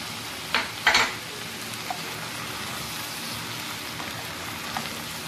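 Food fries in a pan with a continuous close sizzle, like rain on a surface. A couple of clattering stirs come near the start, then the sizzling goes on alone with no voices.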